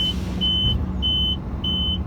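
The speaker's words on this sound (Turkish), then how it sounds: "Damperimiz kalkıyor arkadaşlar." A dump truck's tipper bed raises at a quarry while a high electronic beep repeats three times at an even pace over a steady low engine rumble.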